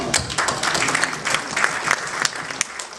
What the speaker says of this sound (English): I actually want to give a round of applause for that.